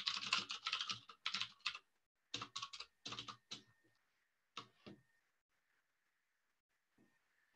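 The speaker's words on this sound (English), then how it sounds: "when I stop talking, I can type." Typing on a computer keyboard, fairly close quick clusters of key clicks in bursts with pauses, fading to sparse taps over a faint steady hum.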